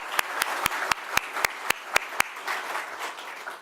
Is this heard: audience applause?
yes